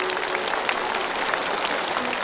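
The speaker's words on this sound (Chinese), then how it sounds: "我们掌声欢迎这个好心的大哥来" A studio audience applauds to welcome a guest onto a television stage, a dense, even wash of clapping that continues throughout at steady volume.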